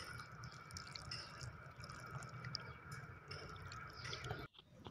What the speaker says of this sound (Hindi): इसके बाद इसे धो लें पानी के साथ।